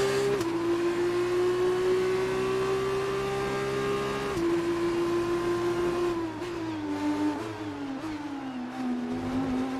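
A Formula 2 race car in F1 2019 screams up through the revs, its steady engine whine dropping sharply at each gear shift and then climbing again, loud and close with no talking.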